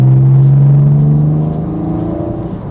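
Porsche 911 997 Gen 1 with a direct-injected flat-six and manual gearbox, its exhaust switched to quiet mode, gives a steady low engine drone that eases slightly in volume partway through, close and alone with no talk.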